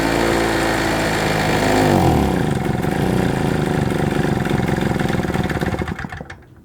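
A SIP Medusa T951 two-stroke generator engine runs steadily and close by, a buzzing idle with a shift in tone near two seconds as the mixture is adjusted, then fades toward the end.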